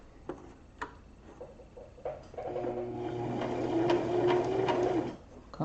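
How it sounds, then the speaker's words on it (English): A sewing machine stitches an embroidered rope bowl, starting with a few ticks and clicks, then running in a steady, close hum with rapid needle taps for a couple of seconds before easing off. "it's stitching more like a embroidery machine"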